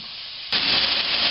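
Onions sweat in a pan over medium-high to high heat, a sudden rise in steady, bright sizzling hiss that holds continuously and close.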